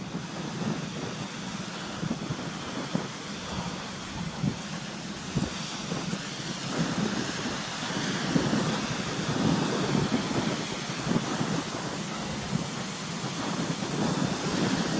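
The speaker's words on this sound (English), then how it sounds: "You can hear the water running down like bits of rapids and all that down the bottom there into the gully." Cautley Spout waterfall pours down into a rocky gully, a continuous broad rushing roar like rapids, steady and fairly distant, with gusty wind buffeting the microphone throughout and no talking.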